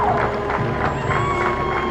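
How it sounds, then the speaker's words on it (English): Parade crowd in Plattsburgh cheering and clapping for the City Fire Department, a steady outdoor roar of voices and scattered applause, with a vehicle hum and a faint whistle-like tone running under it. "Give a big round of applause for the City Fire Department."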